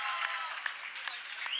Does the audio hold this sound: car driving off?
no